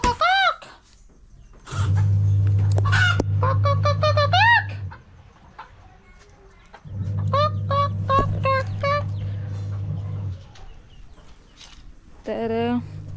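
Rooster crowing repeatedly at a village home, several long rising crows and calls over a steady low machine hum, with someone talking in between.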